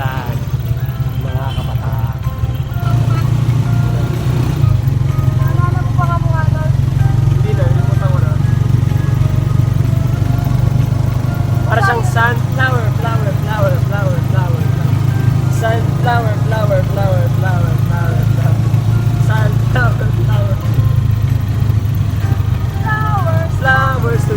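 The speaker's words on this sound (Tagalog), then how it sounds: "Nakasakay kami sa tricycle. Medyo maingay." A motorized tricycle's engine drones loudly and steadily from inside the moving vehicle, with people talking over the noise now and then.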